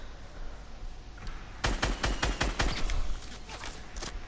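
A burst of rapid gunfire in a Fortnite squad match, a quick volley of sharp close shots after a quieter stretch, then tapering off, with no talk.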